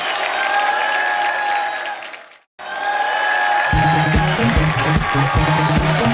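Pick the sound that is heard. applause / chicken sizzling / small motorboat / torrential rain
applause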